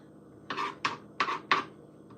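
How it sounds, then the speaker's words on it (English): Knife chopping lettuce and vegetables for a salad on a cutting board: four crisp, evenly spaced chops, close and fairly loud, with no talking. "And I'm kind of chopping things small like I usually like to do."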